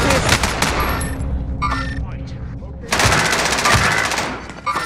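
Bursts of rapid automatic gunfire from a new gun in Warzone on Rebirth Island, loud close volleys separated by a brief lull, with a player's voice talking over the shots.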